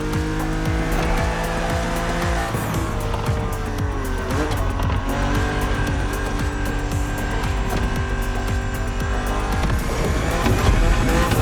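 A BMW Z4 E89 coupe cabriolet in the racing game The Crew Motorfest drives hard, its engine revving loudly and continuously as it shifts through gears, with tires squealing throughout.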